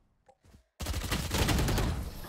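Rapid gunfire from a video game shooter bursts in loud and sustained after a brief quiet start, a dense fusillade of shots running to the end.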